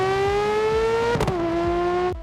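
A 2026 Ferrari F80 supercar sweeps past on a racetrack, its high, sustained engine whine dropping sharply in pitch as it passes close by before fading away.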